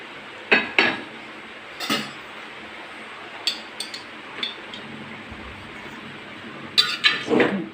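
A spoon scrapes and clanks against a pan as an onion, ginger and garlic mix is stirred into chicken, giving a few sharp metallic knocks in clusters over a soft hissing background.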